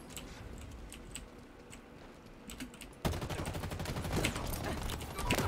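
Rapid gunfire in the Halo video game, a quiet stretch of faint ticks that suddenly turns into dense, rattling automatic bursts, fairly low in level.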